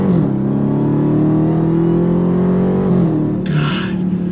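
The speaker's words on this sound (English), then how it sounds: "the sound of that Flowmaster exhaust makes all that supercharged goodness with the V8 power sound" 2023 Dodge Charger Jailbreak with a supercharged V8 and Flowmaster exhaust revs hard, a loud rising drone that dips and climbs again near the end, no voices over it.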